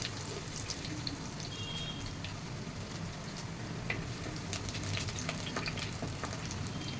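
Garlic and chopped shallots fry in hot oil after mustard seeds have popped, giving a continuous soft crackling sizzle with faint clinks and ticks throughout, nobody speaking.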